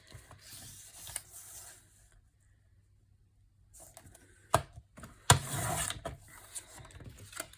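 A piece of white cardstock is cut down to three inches with a paper trimmer, giving a few short clicks and scraping strokes between quiet gaps and sharp snaps near the end.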